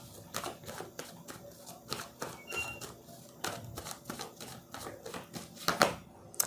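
A deck of tarot cards being shuffled by hand, giving a steady run of quick, crisp papery riffles and taps at close range, with no one talking.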